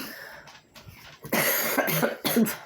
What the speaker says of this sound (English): Sorry, I'm coughing too much.